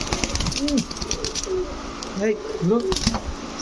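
Giribaz and racer pigeons coo in a loft, several rolling, repeated coos from close by over a voice talking.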